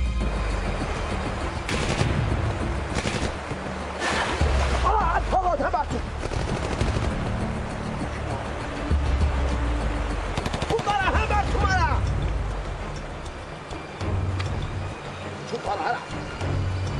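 Bursts of gunfire crackle in sharp, uneven clusters, fairly close, with voices and background noise mixed between the shots.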